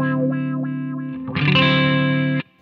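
Electric guitar through an AKAI VariWah W1 wah pedal with the control turned down: a sustained note with a few wah sweeps, then a brighter, louder chord that rings briefly and stops.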